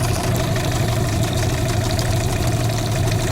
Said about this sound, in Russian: Вот Yamaha на холостых оборотах.